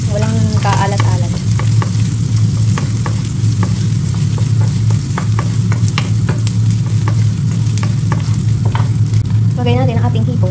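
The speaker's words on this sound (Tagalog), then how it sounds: "dito sa pinagprituhan natin, lagyan natin sibuyas, bawang at luya" Onion, garlic and ginger frying in oil left from frying fish for laing, a loud dense continuous sizzle with stirring clicks close by, and a voice briefly heard at the start and end.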